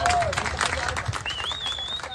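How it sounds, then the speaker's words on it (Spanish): A crowd at a political protest in Peru claps in brief bursts amid shouting voices and a shrill whistle, all loud and close. "Palmas combatidas, hermano, palmas."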